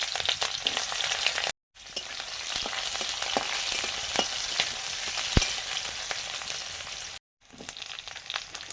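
Chopped onions fry in mustard oil with five-spice seeds, a dense, even sizzle with occasional sharp pops and stirring scrapes, close by, cut by two brief gaps of silence.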